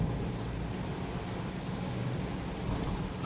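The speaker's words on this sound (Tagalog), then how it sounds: "Lakas pa rin ng ulan." Heavy rain on the Skyway while driving gives a steady, low, even hiss and rumble with no talking.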